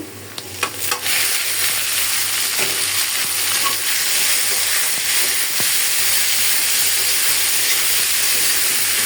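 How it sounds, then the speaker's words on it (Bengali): Water spinach sizzles in hot oil with onion and garlic, a loud, steady frying hiss up close, with brief stirring clatter at the start and occasional utensil taps. "আমি শাকটা তেলে দিয়ে দিচ্ছি আমার শাকের পেঁয়াজ রসুনটা কিন্তু হয়ে গেছে আমি এখন শাকটা দিয়ে দিচ্ছি"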